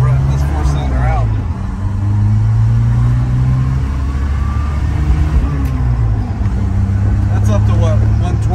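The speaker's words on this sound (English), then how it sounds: "run this four-cylinder out" A 1990 Chevrolet S10 short-bed truck with a four-cylinder engine and five-speed hums steadily at close range, its pitch rising and easing with light revs, while people talk over the engine.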